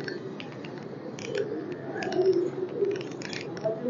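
Pigeons kept as a rooftop hobby in Gujrat coo softly in low, continuous murmuring beneath scattered light clicks and rustles.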